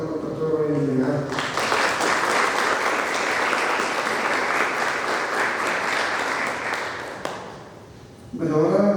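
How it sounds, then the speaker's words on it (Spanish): After a voice, an audience at a science conference breaks into full applause for a doctor, clapping loudly and evenly for several seconds before it fades and someone speaks again. "pido un aplauso para el señor doctor Melgar"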